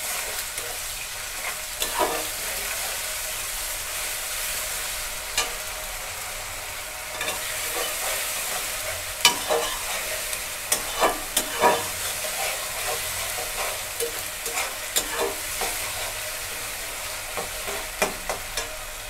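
Ginger garlic paste sizzling with onions in a hot pan, a steady frying hiss with scraping stir strokes that grow more frequent, close and fairly loud, with no voices.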